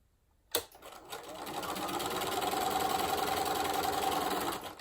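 A sewing machine stitches one edge of strips for a log cabin quilt block, starting with a sharp click and then settling into a steady, fairly quiet whirring run of rapid stitches that lasts several seconds.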